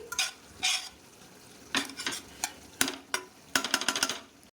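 Spoon stirring garam masala and biryani masala into chicken frying in a kadai, heard as a series of sharp scraping strokes in irregular bursts over a soft sizzle, close and fairly quiet.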